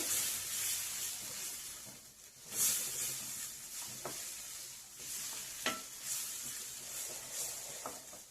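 Capsicum masala with gram flour and tomato frying in oil: a soft continuous sizzle, broken by a few sharp scrapes and clinks of a spatula stirring the pan, close and fairly quiet, with no talking.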